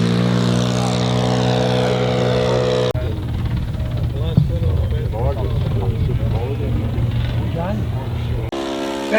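Large radio-controlled model airplanes with big motors buzz and drone loudly overhead in an open field, with strong steady engine tones at the start and end and a person talking over a windy middle stretch.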